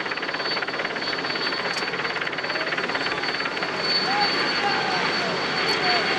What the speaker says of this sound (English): the helicopters trace over the beautiful Gave River here